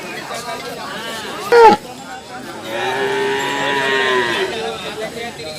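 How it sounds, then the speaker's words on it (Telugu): Jersey cows low loudly and at length at a livestock market, with a sharp knock partway through and crowd chatter in the background. "ఇది జెర్సీనా? Original Jersey."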